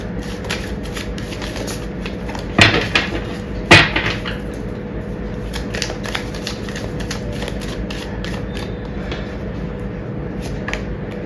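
Tarot cards being shuffled and drawn for a Hindi reading, a steady riffling flutter with two sharper slaps as cards are pulled and set down, close and clear without speech.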